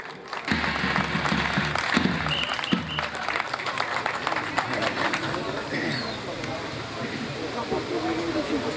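Crowd applause welcoming the organizing committee chairman to the microphone at a village oil wrestling event, sustained clapping over outdoor hubbub and murmuring voices, with some low rumble early on.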